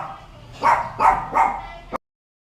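Three quick dog barks in a row, close and moderately loud, followed by a short thump before sudden silence.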